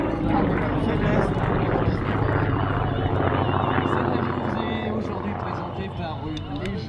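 A Yak 11 trainer aircraft roars steadily in a flying display at the Gap-Tallard air show, its engine drone loud and sustained under someone talking, fading slightly toward the end.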